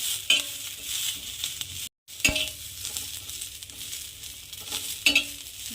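Green chillies roast on a thick, hot tawa over low gas, giving a soft steady sizzle broken by a few sharper scrape-and-stir clicks as they are turned, close and without talk.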